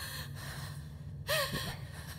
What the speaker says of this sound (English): Can you stop breathing in my ear